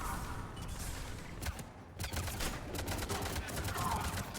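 Sentry turret fire in Mass Effect 3 comes as rapid, fairly loud bursts over a steady battle din, with short gaps between volleys and faint voices in the background.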